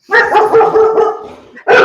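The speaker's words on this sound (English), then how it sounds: "And there goes my dog." A pet dog barks loudly and close by in a home, giving a run of rough barks followed by one more sharp bark after a brief pause.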